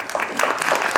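Audience applause at a Caltrans community meeting in Idyllwild, a brief, steady patter of clapping that fills the whole second at moderate loudness.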